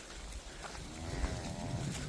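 Cattle being moved on a farm in December, with a low, faint moo from a cow rising out of quiet, windy outdoor background.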